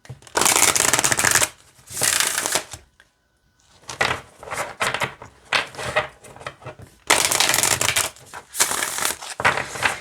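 An oracle card deck is shuffled in several quick riffling bursts, crisp and close, separated by short pauses and softer handling noises.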